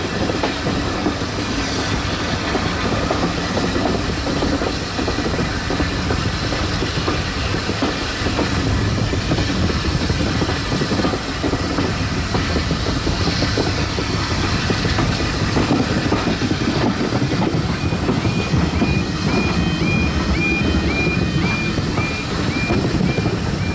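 Nene Valley Railway heritage train running near Orton Mere and Ferry Meadows, a steady loud rumble and clatter of wheels on track heard from aboard, continuous and close, with no talk.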